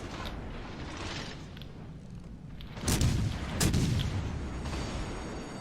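Naval guns from HMS Albemarle fire in World of Warships Legends: two heavy booming salvos about a second apart rise over a constant low rumble of engine and sea.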